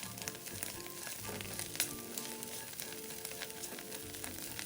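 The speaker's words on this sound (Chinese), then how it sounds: "接着将腊肠也炒一炒，炒至腊肠也溢出香气" Chinese sausage stir-fried in a hot pan for taro radish cake, giving a steady, close sizzle and crackle of frying fat with a few brief scrapes of stirring throughout.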